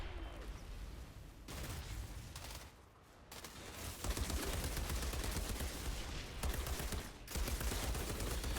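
A gun with a 100-round magazine firing in the video game Outriders, loud sustained automatic bursts with short pauses between them, close and dense.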